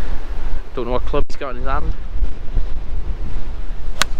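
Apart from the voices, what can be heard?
wind on golf course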